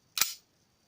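An airsoft M92 pistol's slide is racked, giving one quick, bright mechanical snap close to the listener, followed by silence.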